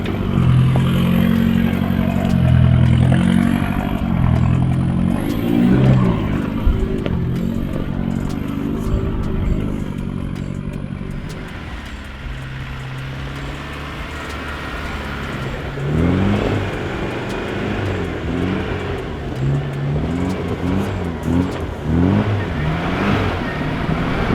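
A 4x4, including an Isuzu D-Max, revs and labours in bursts as it crawls over a rocky track, with clattering and knocking of the body and loose gear.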